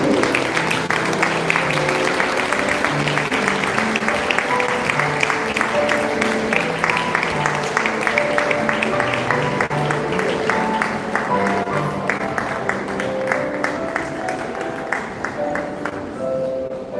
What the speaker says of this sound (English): Have a round of applause for 12A